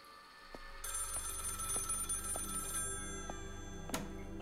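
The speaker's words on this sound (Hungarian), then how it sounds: "ez a telefon csörgés, de idegesítő" Telephone bell ringing in the horror game Maid of Sker, a steady repeating electronic ring that plays throughout at moderate level over a low ambient hum.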